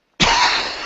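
A single sharp, loud cough from a man with bronchitis bursts out close to the microphone after a moment of silence and trails off raspily, with no other sounds around it.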